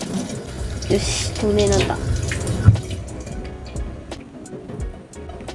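Running tap water splashes steadily while a makeup puff is rinsed with Daiso puff detergent in a sink, with a few squishes and drips as the flow eases, under a person's brief spoken remarks.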